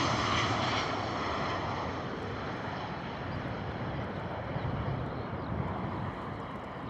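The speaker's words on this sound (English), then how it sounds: "Coming in fast, man. Ryanair coming in very fast." A Ryanair airliner comes in fast to land at Bristol Airport, a sustained engine rush that starts strong and eases slightly while staying steady, with some wind buffeting.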